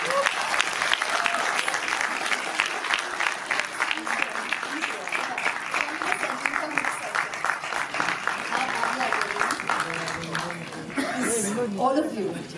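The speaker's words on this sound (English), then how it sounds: "Will you please stand up? Because you all deserve an ovation." A music launch audience for a Marathi film gives an orchestra a sustained ovation of steady applause, with scattered chuckles and a voice or two near the end.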